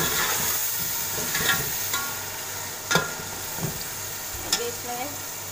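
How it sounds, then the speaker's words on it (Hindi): Boiled chana dal stir-frying in a hot pan for a pulao, a steady sizzle with a few sharp scrapes and clinks of the spoon stirring through it, close and moderately loud with no talking. "थोड़ा सा फ्राई करेंगे हल्का सा मिक्स करके। ये दाल जाएगी इसमें।"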